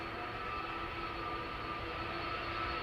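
A Delta Airbus A330 at Schiphol's Polderbaan runs its jet engines in a steady, distant whine and rumble with a constant tonal hum, faint and unchanging, no talking.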